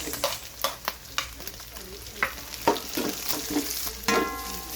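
Onion frying in a pan just after garlic, for mung bean stew with bitter gourd: a steady sizzle runs under repeated scrapes and stirring strokes, close and moderately loud, with no talking.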